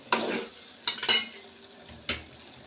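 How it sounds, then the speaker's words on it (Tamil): Gooseberry pickle cooks in sesame oil, a faint low bubbling sizzle punctuated by a few sharp clinks and scrapes of a utensil against the vessel. "நல்லெண்ணெயும் ஊற்றி கொதித்து வெந்து நல்லா மேலே வருது பார்த்திங்களா எண்ணெய்"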